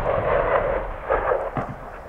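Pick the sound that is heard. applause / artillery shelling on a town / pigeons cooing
artillery shelling on a town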